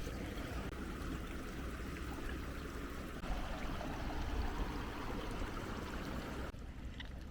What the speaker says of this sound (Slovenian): Tle pa lepo vidimo, kako se voda pretaka iz lagune v morje ali pa iz morja noter v laguno